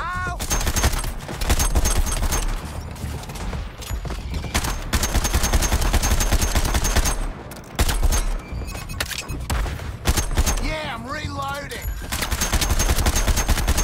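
Dense, sustained gunfire from the Suicide Squad Kills the Justice League video game, rapid bursts and booms layered with music and effects throughout a hectic combat scene, with a brief voice near the end.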